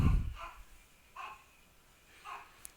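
Dogs bark three times at a distance, spaced about a second apart, each bark short and muffled, with a low thump at the very start and a faint room background between.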